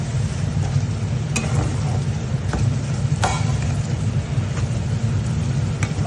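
Fish masala frying in a pan, a steady close sizzle with low rumbling and occasional scraping stirs, heard alone without talk.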